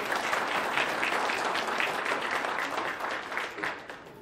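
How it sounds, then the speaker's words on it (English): Steady applause from a large audience at a 20th annual MLK holiday celebration in Conway, Arkansas, honoring the governor; dense clapping fills the room evenly and slowly thins toward the end, with no voices over it. "Please give him a round of applause for being here in Conway with us today"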